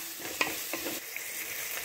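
Tomato, egg and red pepper masala with chili powder fries in a pan, a soft sizzle running under a few light scraping stirs, heard quietly and close with no talking.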